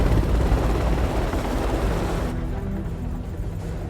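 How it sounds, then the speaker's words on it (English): A helicopter in the video game House of Ashes gives a loud, dense rotor rumble with thumping beats, which softens and thins out after a couple of seconds. "That's a helicopter."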